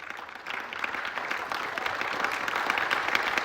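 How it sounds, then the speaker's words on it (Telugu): Members of a yoga class clap together, a steady, fairly faint patter of many hands that thickens toward the end. "clapping is also a yoga"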